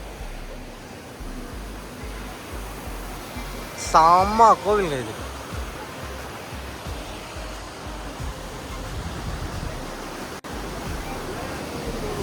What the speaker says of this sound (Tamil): இந்த இடத்துல பார்த்தீங்கன்னா ஒரு அருவி ஓடிட்டே இருக்கு